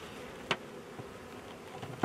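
Honey bees buzzing at a hive, a faint steady hum with a few soft clicks, close by and with no voices.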